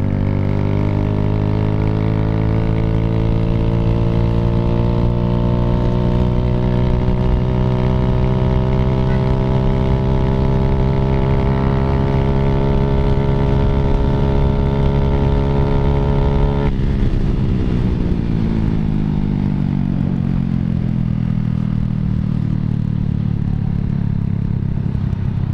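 A Raider J115 Fi motorcycle with a 57mm bore, 8-hole injector and 30mm throttle body carries a passenger at speed, its engine droning steadily and loudly, then the pitch drops sharply as it shifts or eases off near the end.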